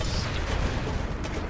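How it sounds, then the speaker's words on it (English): Cannons boom in the shooter Serious Sam 3, a loud, dense barrage of heavy blasts and rumbling that fills the whole moment without a break. "Cannons."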